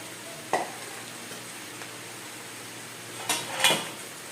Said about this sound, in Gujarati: બધું સરખું હલાવી લઈએ અને ચડવા દઈશું થોડીક વાર.